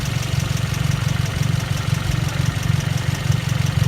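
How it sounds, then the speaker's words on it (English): A Hyundai Veloster Turbo GDI engine idles with a steady rhythmic diesel-like ticking over a low hum, close and continuous. "That is not a valve tick, that is actually normal. That's the signature of the GDI engine."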